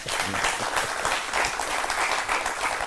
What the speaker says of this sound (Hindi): अगर नहीं मालूम थी फिर बजाई ताली।